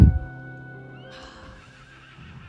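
A dragon horse from the Star Stable Online video game gives a loud, close whinny that trails off into a quieter fluttering tail and soft background game ambience, with no talking.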